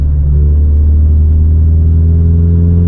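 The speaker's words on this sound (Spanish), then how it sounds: "Hace ruido por el escape" A Renault Clio Sport 2.0 16V 182 hp engine droning loudly from close by, a low steady rumble with rising tone as it accelerates hard in fourth gear, no voices.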